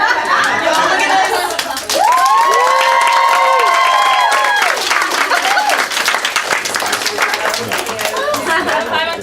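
A crowd at a training event claps and cheers loudly, with whoops and shouts over steady applause and lively chatter throughout.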